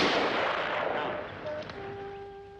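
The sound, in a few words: firing squad rifle volley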